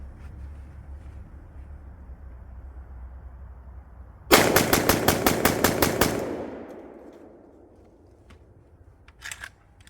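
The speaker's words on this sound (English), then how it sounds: "So here we go, 10 round mag dump." A Riley Defense RAK47-T-MFT rifle dumps a 10-round magazine: a quick, loud burst of ten evenly spaced gunshots that lasts about two seconds, followed by a fading echo and then quiet.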